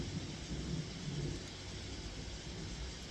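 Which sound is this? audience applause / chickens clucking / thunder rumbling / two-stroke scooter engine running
thunder rumbling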